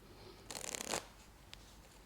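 A deck of playing cards is riffled in one quick, crisp half-second burst during a card magic routine, close up, followed by a faint single tap.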